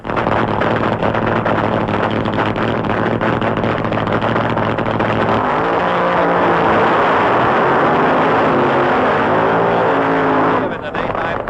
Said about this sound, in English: Fuel drag racing at night.